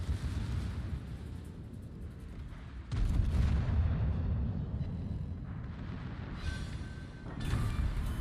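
Battleship gunfire in World of Warships, from a Tier 9 American Delaware battleship firing its turrets in a naval battle: deep booming blasts with a heavy rumble, a big salvo near three seconds and another near seven.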